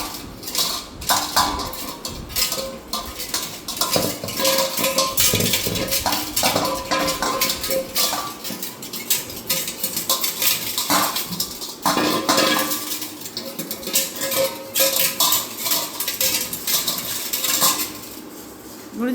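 A dog eats from a metal bowl, giving steady clinking and scraping of metal close by, continuous with brief pauses and little else around.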